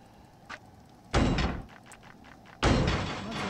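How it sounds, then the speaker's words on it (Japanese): Iron doors opening in the horror game Horrorfield: a faint click, then two loud, broadband metallic scraping bursts about a second and a half apart, each sustained and grinding before trailing off, with no talking. "下で鉄の扉を開ける音"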